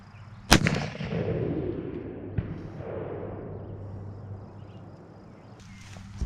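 A LeMat revolver fires a single loud, sharp buckshot shot, followed by a long rolling echo that fades over several seconds; a second faint thump comes later, with light background noise.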